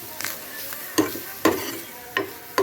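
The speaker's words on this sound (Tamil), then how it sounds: "கொஞ்சம் வதக்கி போட்டோம்னா நல்லா வாசமாக இருக்கும் நெய்யோட" Grated coconut is sautéed in melted ghee in a pan for kozhukattai, with a quiet sizzle broken by four or five sharp spatula knocks and scrapes at irregular intervals.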